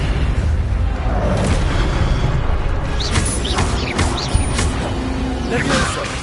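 An Expelliarmus spell is cast during combat in Hogwarts Legacy, loud dense magical blasts and booms with sharp zips and impacts layered over constant rumbling battle noise.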